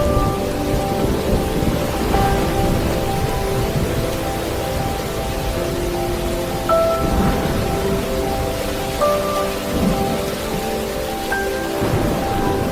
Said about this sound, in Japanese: 空に稲妻がひらめき、サバンナに雷鳴が轟きます。